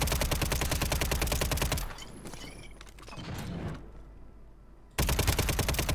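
Loud, rapid automatic gunfire in a Warzone match, dense and close, fills the opening two seconds, breaks off into quieter ambient game noise, then resumes just as loud for the final second.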